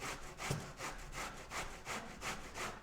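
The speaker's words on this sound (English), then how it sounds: "for this, we're gonna be grating the zucchini" Zucchini being grated by hand, a steady back-and-forth rasp of about eight strokes, fairly quiet and close with no talking.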